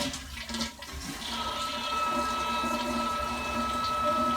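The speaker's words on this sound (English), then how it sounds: "I would say that is the sound of the toilet" A toilet flushes nearby with a rushing swirl of water that builds and stays loud, with a faint whine of refilling underneath.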